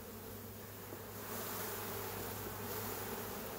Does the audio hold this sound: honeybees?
yes